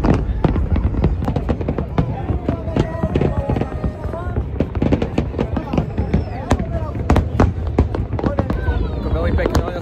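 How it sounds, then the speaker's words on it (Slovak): New Year's Eve fireworks burst over Abu Dhabi in a dense, nonstop barrage of loud cracks and booms, with whistling rockets rising between the explosions. "Veľmi pekné ohňostroje, už 10 minút idú z obidvoch strán non-stop, takto strieľajú tieto ohňostroje."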